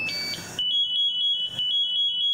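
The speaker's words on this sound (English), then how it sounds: "When a firefighter is down and he doesn't move for a long period of time, that device will go off at about 30 seconds" Firefighter's motion alarm device going off after a period without movement, a piercing continuous high-pitched shriek that starts abruptly after a brief noisy moment and holds steadily, loud and close.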